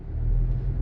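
A 2020 Honda Accord pulls off onto the road, its engine giving a low, steady rumble with a slight rise as it gets moving, heard close and alone for under a second.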